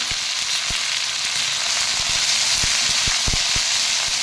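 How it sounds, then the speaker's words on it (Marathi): Chopped okra fries in a pan of oil with mustard seeds and cumin, giving a constant hissing sizzle broken by sharp scattered pops and spatters, heard up close and without voices. "आता छान भेंडी भाजून घ्यायची"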